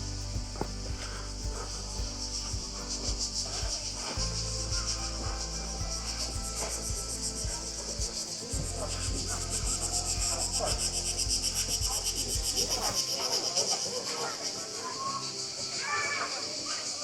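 Crickets chirp in a dense, continuous high-pitched trill near a Croatian beach at Omis, steady and loud throughout, with background rumble and a voice speaking over it.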